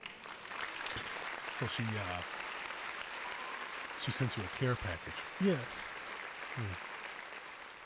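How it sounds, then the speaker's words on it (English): Applause from a studio or podcast audience rises through steady crowd noise, punctuated by bursts of laughter and cheering, while people talk over it. "Round of applause to her."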